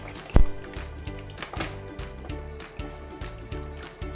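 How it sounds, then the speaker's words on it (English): Water pours into mashed cooked tur dal in a pot for beetroot sambar, making a soft liquid splashing and gurgling close by. Light rhythmic knocks and background music run underneath. "To this, I'm going to add in the water."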